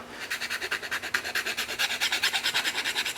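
Hand file worked back and forth across a display base being rounded after grinding, a close, rhythmic rasping of quick even strokes repeating throughout with no talk.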